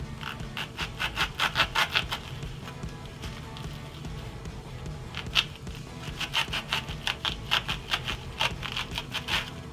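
Pipe insulation foam being cut with a blade for home plumbing: a quick run of crisp, evenly spaced scraping strokes, a pause, then a second longer series of rhythmic cuts, close and moderately loud with no talking.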